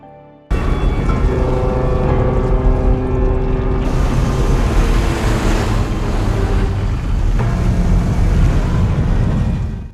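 A ship approaches and crashes onto beach sand in a film scene, heard as a loud, steady roar of surf, wind and churning water that swells abruptly near the start and again midway.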